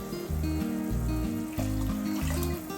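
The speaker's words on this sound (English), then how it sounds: "Adding more water." Water pours in a broken, splashing stream into a cooking pot of Nigerian smoky jollof rice with chicken stock, coming in short uneven gushes close by, fairly quiet and with no talking.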